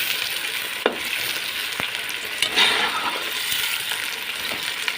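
Onions fry in hot ghee for beef biryani, giving a continuous dense sizzle with a few sharp clinks of a utensil against the pan and no talking.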